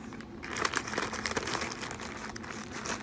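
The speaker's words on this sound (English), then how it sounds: "we're just going to get some scissors and open it up." Hair packaging is cut open with scissors, and plastic wrap crinkles and rustles in quick, close, irregular bursts for several seconds with no talking.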